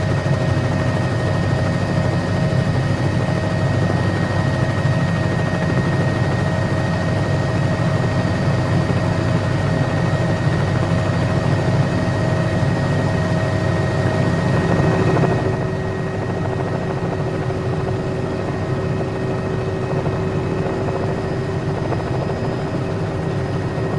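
A Bell 206L helicopter's engine and rotor drone steadily and loudly throughout in a flight simulator, the tone easing slightly partway through.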